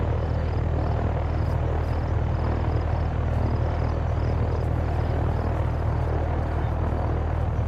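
A helicopter in the DayZ video game on the Livonia map, a steady continuous rotor and engine drone holding at an even level for several seconds, with no talk over it.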